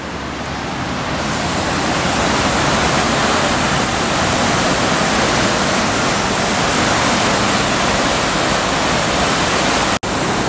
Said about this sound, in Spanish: Y está al lado, está al lado del río, miren.